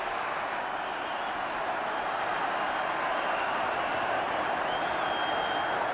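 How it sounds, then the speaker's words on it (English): Football crowd applauding across the ground during a Luton Town v Wimbledon match, a steady, distant wash of clapping that holds evenly throughout with no voices over it. "All the applause is now at the other end of the ground."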